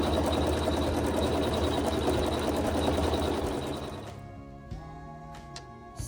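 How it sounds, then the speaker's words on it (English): Embroidery machine stitching dark green leaves and vines onto a quilt block, a fast steady buzzing hum for about four seconds, then stopping and leaving a quiet mechanical whir with a few small clicks. "I will let it stitch the embroidery on my block"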